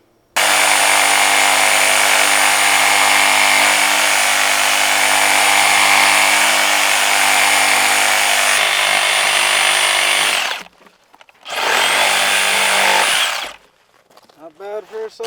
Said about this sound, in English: I'm definitely putting my Sawzall to the test.